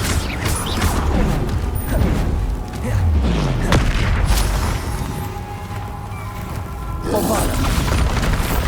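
Repeated booming fire-curse blasts from the Hogwarts Legacy Confringo spell in heavy combat, a dense run of loud impacts and crackling bursts over about nine seconds, with voices and other spell effects mixed in throughout.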